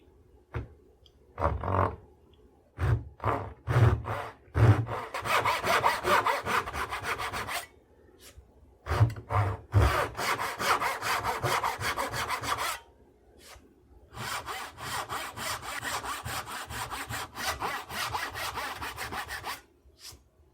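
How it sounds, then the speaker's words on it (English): Rhythmic hand saw strokes cutting into wood during a gunstock repair, bursts of rasping back-and-forth sawing separated by short pauses, close and clear. "I'm going to cut with a saw on the inside of the lines"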